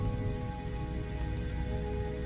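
Steady rain from a video game, falling evenly on a surface as a dense, constant patter that fills the whole short stretch with no voices.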